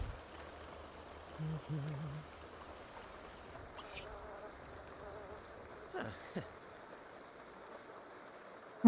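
Steady rain falling in a video game, a continuous soft patter of drops at moderate level with a few brief game sound effects over it and no talk.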